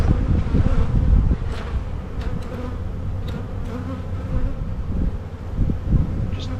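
Close, dense buzzing of many honey bees, mostly nurse bees inside an open hive, hums continuously, a steady drone with occasional louder passes near the microphone.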